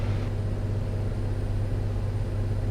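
A small airplane engine droning steadily in the cockpit as power is pulled back on final approach, a constant low hum with no talk over it.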